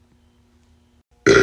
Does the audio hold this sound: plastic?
no